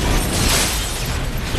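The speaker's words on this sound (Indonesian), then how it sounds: "si pembunuh tinggal nyulut api pakai lilin dan boom," A car blows up after its leaking fuel tank is lit by a candle flame in the slasher film Happy Death Day, a loud, sustained rumbling blast filling the whole moment with no talk.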